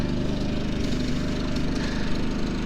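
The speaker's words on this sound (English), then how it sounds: "Got his handy dandy baby chainsaw there. He's going to chop up some wood." A small chainsaw runs steadily while cutting wood at a Missouri campground, with a continuous buzzing engine drone at moderate distance and no talking.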